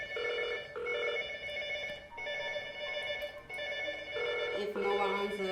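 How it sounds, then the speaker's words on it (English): A telephone on a GSM gateway phone system rings in repeated electronic bursts, a steady warbling ring pattern with short gaps, fairly close and alone. "Ringing."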